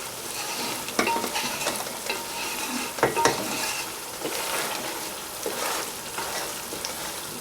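Spices stirred and frying in a pan for aloo kofta, a busy sizzle with scraping strokes and light clinks of a utensil, close and continuous for several seconds without speech.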